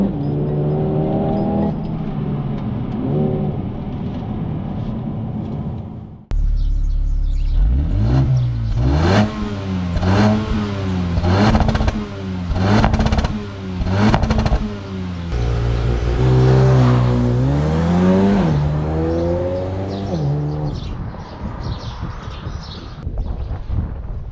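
A Mercedes-AMG CLA 35, a 306-horsepower compact sedan, revs hard during launch control, its engine note rising and falling in loud, repeated surges close by, with no talk over it.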